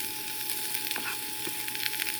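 Zucchini, white onion, garlic and other vegetables fry in a stir-fry pan, giving a soft, even sizzle with light crackles and occasional stirring scrapes.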